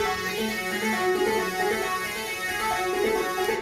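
Fat electronic synthesizer riff rendered from MIDI with JavaScript and Node.js for electronic dance music, a sustained dense buzzing tone held steadily at moderate loudness with no talking.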